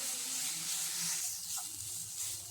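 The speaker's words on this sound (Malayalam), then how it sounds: "ബീട്രൂട്ടിൻ്റെ വെള്ളമൊക്കെ മാറി വരുന്നത് വരെ നന്നായിട്ടൊന്ന് വഴറ്റി കൊടുക്കാം." Grated beetroot sautéing in a pan gives a steady, close sizzle and hiss with faint stirring scrapes, cooking down until its moisture is gone.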